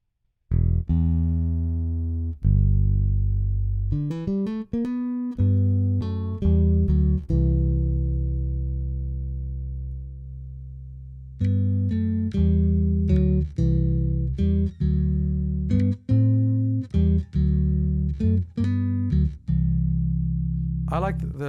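Ample Sound Ample Bass P virtual bass guitar played alone in a demo, with deep, round sustained notes and quick plucked runs, closely recorded and steady in level throughout.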